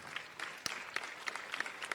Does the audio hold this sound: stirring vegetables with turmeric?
no